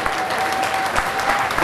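Dense, steady applause from a large crowd at a fight event, loud and continuous throughout.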